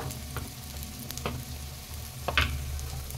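Battered cauliflower fries in hot oil with a steady close sizzle broken by a few sharp crackles and pops, and no one speaks.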